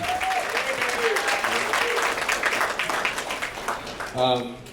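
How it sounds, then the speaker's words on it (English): Wedding reception guests applaud the newlyweds, producing a steady wash of clapping beneath a person speaking over a microphone, with a brief louder moment near the end. "I would like to give a round of applause for the newlyweds, Mr. and Mrs. Anthony and Tiffany Creek."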